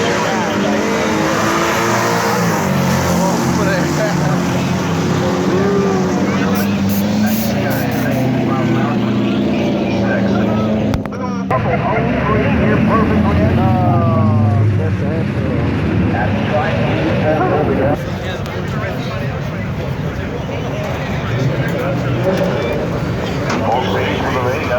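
Mustang and muscle cars drag racing, loud engine roar and tire noise filling the whole stretch with a brief dip midway, under steady announcer commentary.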